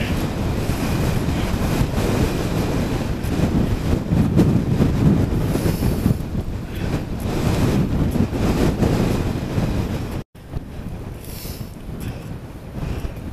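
Strong headwind buffets a microphone while cycling over a mountain pass, a loud, continuous roaring rumble with gusty swells and a brief dropout near the end.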